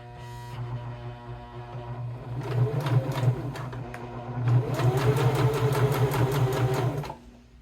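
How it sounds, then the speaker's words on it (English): A sewing machine stitching a fabric school card holder, running in two close, steady bursts of rapid needle clatter with a short pause between them. "We're going to start at that top left corner and we're going to sew just to where it starts to curve."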